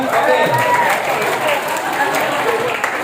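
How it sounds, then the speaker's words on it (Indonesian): A group of young people claps together in a 'healthy clap' routine, brisk handclaps blended with voices talking over it, loud and close for a few seconds. "Tepuk tangan sehat ya."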